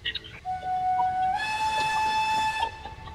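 A steam locomotive whistle in a train simulator game sounds in two sustained tonal blasts, the second louder and fuller, over a low rolling rumble.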